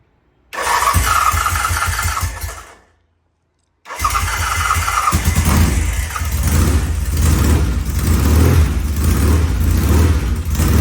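A Norton motorcycle engine fires up loudly nearby, cuts out briefly, then restarts and settles into a steady, rumbling warm-up idle.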